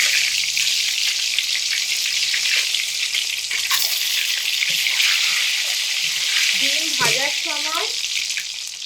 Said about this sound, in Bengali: প্রত্যেক কটা ডিম আমি তেলের মধ্যে দিয়ে লাল লাল করে ভেজে নেব।